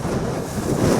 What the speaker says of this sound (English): Quite windy up here